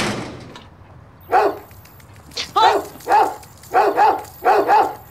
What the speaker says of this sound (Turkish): Bizim köpeğimiz o.